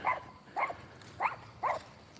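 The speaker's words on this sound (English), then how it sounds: "for some reason they got to let the dog out to come bark at us" A dog barking outdoors from a corner yard, four evenly spaced barks at moderate distance with no talk over them.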